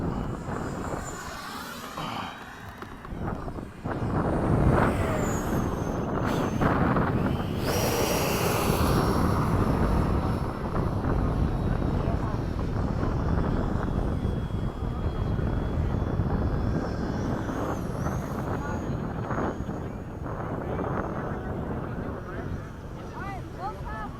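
RC model jet, such as an F-86, F-4 or MiG-17, making a fast pass at an airport airshow: a roaring turbine whoosh swells and fades across the clip while people talk nearby.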